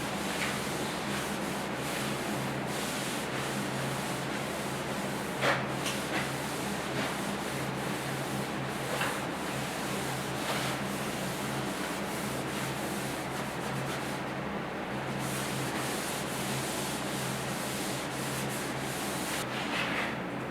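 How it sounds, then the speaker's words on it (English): Cloth wiping excess stain across the wooden bed boards of a 1956 Ford pickup, a steady close rubbing hiss that runs continuously with faint scuffs and no voices. "Here I'm just wiping off the excess and evening out the stain."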